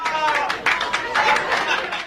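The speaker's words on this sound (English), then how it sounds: "Hold for applause." Applause at a graduation party celebrating a completed master's degree in social work, a brief burst of clapping and crowd chatter at moderate loudness.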